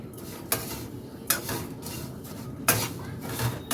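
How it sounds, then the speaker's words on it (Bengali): Flattened rice being stirred with chaat masala in a pan, with repeated metallic scrapes and clinks of a spoon against the pan at irregular intervals, close and moderately loud, no voices. "চাট মশলা দিয়ে চিড়েটাকে নেড়ে নিলাম"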